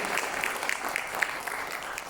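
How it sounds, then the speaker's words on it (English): Awards ceremony audience at the Auto Components India Awards clapping in a soft, continuous patter, somewhat distant and steady from start to finish. "Let's give a big round of applause for that kind of commitment from each and every one of you."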